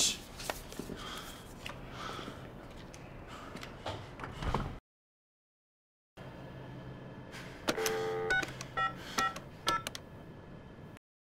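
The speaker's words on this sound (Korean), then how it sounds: "이게 그놈들을 준 명함이니까 여기로 전화해 보면 될 거 아니야?" A telephone number is keyed in, a run of short DTMF tones in uneven bursts, then a gap of silence before more rapid beeping dial tones with faint background noise.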